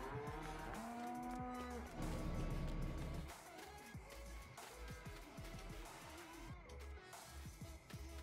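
Cows, Bessie among them, lowing in a field, with several drawn-out moos rising and falling over a steady outdoor hum, loud and close at the start, then softer scattered calls and low rumbling.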